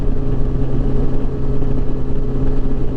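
A 2007 Yamaha FJR 1300 sport-touring motorcycle engine runs close by with a steady, deep droning note, holding a strong even tone without other sounds.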